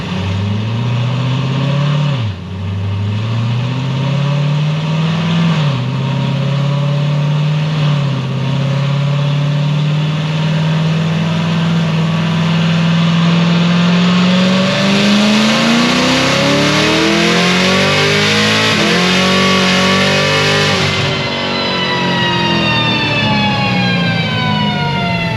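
A Magnuson-supercharged C7Z Corvette engine at full throttle roars loudly and close, its pitch climbing steadily with supercharger whine, dipping sharply at each gear shift before rising again.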